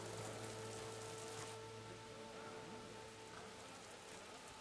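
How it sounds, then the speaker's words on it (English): Rain falls in the video game Horizon Forbidden West, a soft even patter of drops on surfaces with steady low game tones humming beneath, quiet and continuous, with no one speaking. "Oh, it's raining."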